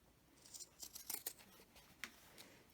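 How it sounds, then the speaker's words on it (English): Pinking shears trimming fabric on a sewn Easter tree decoration, a short run of soft, close snipping and crunching cuts, quiet and without talking. "we'll trim it with our pinking shears"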